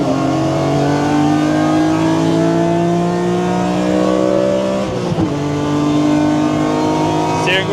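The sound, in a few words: BMW car driving fast on a lap of the Nordschleife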